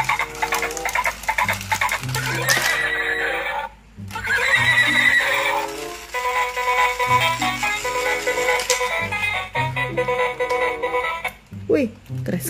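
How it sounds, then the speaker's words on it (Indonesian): A horse whinnies loudly several times over background music, with clattering, hoof-like beats mixed in among other toy or game sound effects. "Wadidaw, lihat teman-teman, ada kuda."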